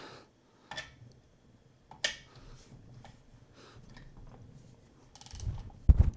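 Ratchet wrench loosening 10 mm nuts on a Ford 7.3 Powerstroke diesel engine: scattered clicks and metallic rattles across a quiet stretch, ending in a few louder, closer clanks of tool on metal.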